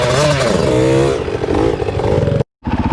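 A loud, close dirt bike, apparently a YZ65 or CRF450L, revs hard with a rising and falling whine and rough scraping clatter from a spinning tire. The sound cuts out briefly near the end, then returns.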